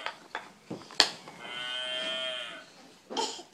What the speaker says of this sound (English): Is that the cow?